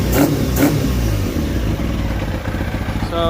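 A 1990s superbike engine with a carburetor fault revs hard in two quick bursts, then holds a loud, rough, uneven idle up close.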